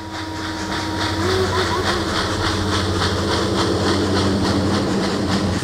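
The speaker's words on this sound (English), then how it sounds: "The sounds in this segment are real recordings of Engine 2136 as it worked that day." A Norfolk and Western steam locomotive, engine 2136, works a coal branch in Mingo County in 1958, its rhythmic exhaust chuffs pulsing steadily over a continuous hiss and mechanical drone, loud and close.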